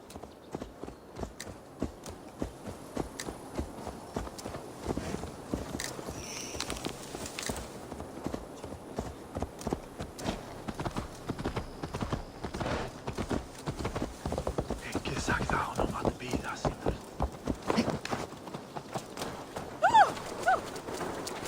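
Horse hooves clip-clop in Assassin's Creed Valhalla, a long run of regular, rhythmic hoof strikes at a steady walking-to-trotting pace, fairly close and moderately loud, with a brief neigh-like sound near the end.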